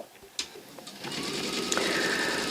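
A sewing machine stitches quilting seams through a layered quilt, starting after a few soft clicks and building to a steady, close, rapid mechanical hum.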